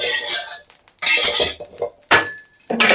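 Metal pan being handled and scraped on a stove while being coated all over with oil for Thai roti street food, a few loud clanking, scraping bursts separated by short pauses.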